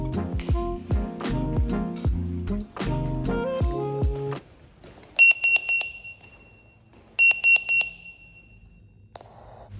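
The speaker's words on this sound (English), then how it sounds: "I wanted to show you what it sounds like when the bleep goes off, and it's fairly loud." After a stretch of loud music, a hospital pager bleeps in two short bursts of rapid, high-pitched tones, piercing and close.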